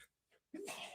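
A single sharp sneeze bursts out after a soft inhale, loud and close, then trails off into breathy noise.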